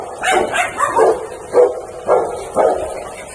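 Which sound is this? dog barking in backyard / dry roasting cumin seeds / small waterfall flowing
dog barking in backyard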